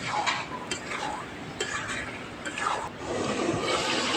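Pre-fried potatoes stirred into a thick chicken curry in a pan, with a steady wet scraping and soft clinks of a spoon against metal, moderately close and continuous, no talk.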